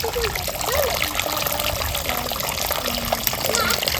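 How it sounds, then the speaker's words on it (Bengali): Starchy water is drained off cooked rice while making chicken biryani at home, a steady close pour and trickle of liquid running the whole time with faint voices in the background. "ভাতের মারটা আমি গেলে নিচ্ছি"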